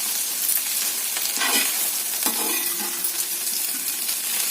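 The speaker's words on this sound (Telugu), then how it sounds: "ఇప్పుడు అయితే కొంచెం వేగనిద్దాం." An okra and egg curry seasoned with turmeric and salt fries in a pan, giving a loud, steady hiss and crackle. A few faint clinks and stirring touches sit over the sizzle, with no talking.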